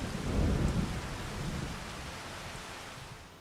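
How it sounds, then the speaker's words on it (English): Heavy rain with rolling thunder at night on a farm in Farming Simulator 25, a broad steady wash of rainfall with a deep rumble swelling early and then easing off. "appreciate a little hard rain at night."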